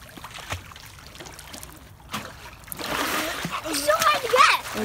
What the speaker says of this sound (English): Dude, you're splashing me.